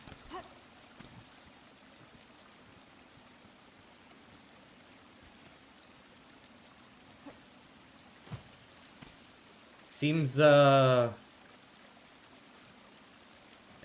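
A waterfall in the game Silksong hisses as a soft, steady wash of falling water throughout, with faint scattered ticks and a brief harmonic tone near the end.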